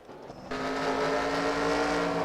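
Race cars in NASCAR Racing 2003 at Montreal, one overtaking another, with a steady, loud engine drone that kicks in abruptly and holds a high, sustained whine with tonal harmonics.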